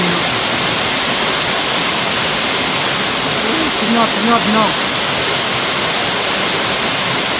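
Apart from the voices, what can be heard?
waterfall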